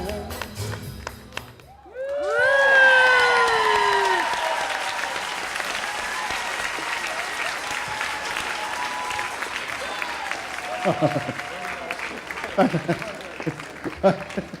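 Applause and cheering erupt at the end of a Dancing With The Stars dance, starting with a loud burst and whoops, then fading into scattered claps under talking voices.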